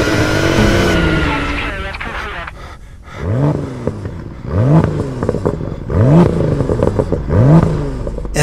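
A BMW M2 fitted with an Akrapovič exhaust system sweeps through a high rev, then gives a string of four or five sharp, loud throttle blips at a steady rhythm, each rising and falling in pitch.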